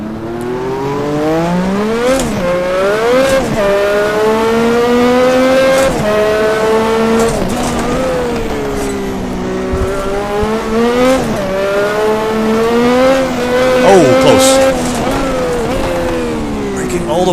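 A turbocharged Ninja Turbo F1 car in a racing video game accelerates around Adelaide, its engine whining up through the gears again and again, dropping pitch at each shift. Tire squeal comes in near the end. The sound is loud and continuous with no speech.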